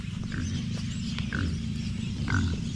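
Pigs grunt and oink in a few short, faint calls over a steady low rumble, probably a motor running nearby on a rural property.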